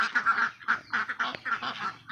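Egg-laying ducks at a Thai duck breeding farm, with Nakhon Pathom, Pak Nam and Khaki Campbell breeds, quack in a dense flock, loud, steady and overlapping, honking calls coming in rapid bursts with no talk.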